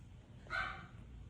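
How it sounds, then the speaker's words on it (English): A single short bark or yip from a dog, fairly quiet and somewhat distant, rising briefly over a low background hum. "Those dogs."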